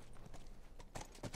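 Horse hooves clip-clop in The Last of Us Remastered, a short run of faint, soft, uneven steps close by with muted game ambience.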